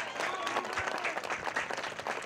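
Crowd applause at a high school baseball game, an ovation for the pitcher after a no-hitter; sustained, fairly distant clapping from the stands with a few faint voices mixed in.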